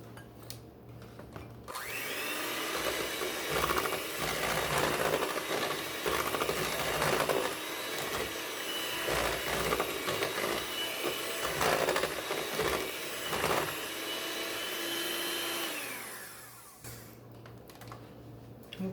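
An electric mixer whirs steadily through banana bread batter, a loud, grinding motor drone that starts abruptly, changes pitch slightly as it works, and cuts off near the end.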